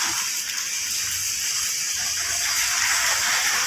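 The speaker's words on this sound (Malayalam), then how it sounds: "അവിടെ ഈ ഷീറ്റിൻ്റെ മേലിൽ നിന്ന് വെള്ളം വീഴുന്നതുകൊണ്ടില്ലേ ആ സൗണ്ട് ഇങ്ങനെ കേൾക്കുന്നില്ലേ" Rain runs off a roof sheet in a steady, close rush of splashing water, a constant bright hiss with no voices.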